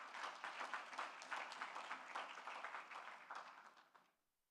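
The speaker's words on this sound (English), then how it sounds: "I just want you to acknowledge them with a round of applause" Audience applause at a regional investments and capital markets conference, a steady crowd of clapping hands sustained for several seconds before fading out at the end.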